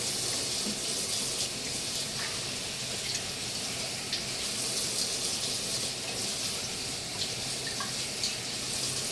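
A tap runs continuously while something is washed off at a sink, a steady close gushing hiss with faint small splashes, no voices over it.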